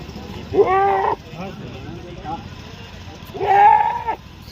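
A goat at a goat fair in Dadyal, Azad Kashmir, gives two loud, close, wavering bleats a few seconds apart, with people talking in between.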